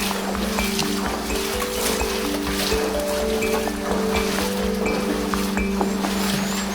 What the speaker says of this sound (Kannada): ಎಷ್ಟು ಪ್ಯೂರ್ ಆಗಿದೆ ನೋಡಿ ನೀರು ಹರಿತಿರೋದು